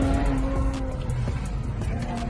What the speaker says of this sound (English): sounds like a Z engine, doesn't it?